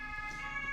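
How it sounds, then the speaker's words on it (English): Ambulance siren passing outside, a faint, distant wail held steady through a brief moment with no talk over it. "The ambulance is saying hello to everybody."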